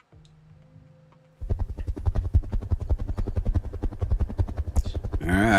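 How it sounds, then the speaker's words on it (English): Helicopters in the RogueTech video game: a quiet low hum gives way to a loud, rapid rhythmic rotor chop that keeps pounding steadily, with a brief whoosh and rising whine near the end. "I hear the choppers coming."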